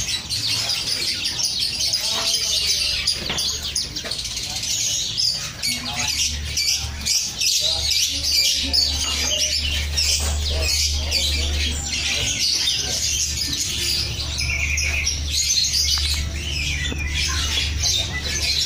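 Hill myna calls, loud squawks and chirps repeating through a busy, noisy bird-keeping setting, with people talking and a steady low hum underneath.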